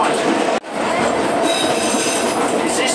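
A Cariri metro train between Crato and Juazeiro do Norte runs along the rails, heard loud and close from the cab, with steady wheel rumble, squeal and clacking broken by a brief dropout near the start.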